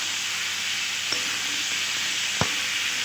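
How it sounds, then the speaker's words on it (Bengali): Fried potato and elephant foot yam stirred in a hot pan for a Bengali lentil curry, giving a steady broadband sizzle with two brief spatula knocks, close and fairly loud, no voices. "এবার আমি দিয়ে দিচ্ছি ভেজে রাখা আলু আর ওলকচু দিয়ে আরও কিছুক্ষণ ভালোভাবে নেড়ে চেড়ে"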